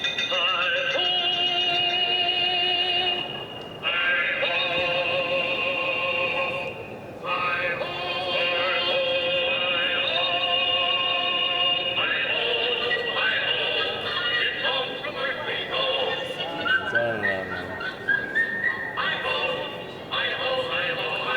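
An Enesco Disney collectible figurine plays a whistled tune: a bright, steady melody of clear high tones running continuously for about twenty seconds, close and fairly loud.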